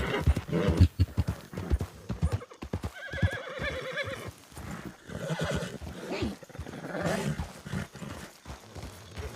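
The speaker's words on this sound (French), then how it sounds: "c'est un autre cheval comme Plumette là-bas" A horse clip-clops with steady hoofbeats and lets out a drawn-out whinny partway through, close and prominent, with faint voices mixed in.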